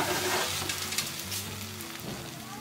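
Thick omelette frying in a pan with a steady, close sizzle and soft crackle throughout, alone without talk.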